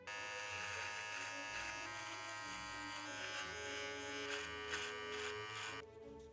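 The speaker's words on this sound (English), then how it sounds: "All you're gonna need is a normal trimmer and a foil shaver." An electric trimmer and a foil shaver shaving stubble on the neck, a close, steady buzzing hum that shifts slightly in pitch as it moves over the skin and then cuts off at the end.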